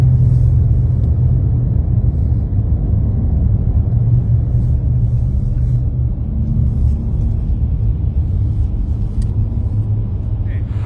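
Historic rally car driving at night through an old, narrow tunnel at the Monte Carlo historic car rally: a loud, continuous low engine rumble that holds steady throughout, with people talking inside the car.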